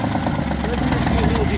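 A 1960s Ford Bronco engine runs steadily at idle after carburetor work, a low, even rumble with a light vibrating texture, close by and continuous, with some talk faintly mixed in.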